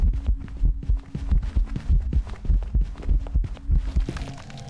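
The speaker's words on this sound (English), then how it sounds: "The heartbeats are supposed to be a lot more bass boosted than that." Pulsing heartbeat effect from a Phasmophobia-style ghost hunt game, a steady run of low thumping double beats with a faint hum underneath, close and fairly loud throughout with no talking.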